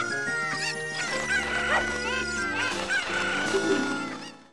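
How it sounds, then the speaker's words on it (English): A chicken in Zelda Ocarina of Time lets out a strained, crowing squawk over busy, tonal game music, the layered sounds running steadily for several seconds before fading. "that noise that he makes with that one chicken is crazy"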